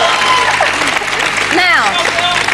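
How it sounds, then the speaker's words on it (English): Studio audience at the live final of Big Brother UK 2003 applauding and cheering a contestant: loud, continuous crowd noise with a voice rising through it. "You get 2 rounds of applause for that."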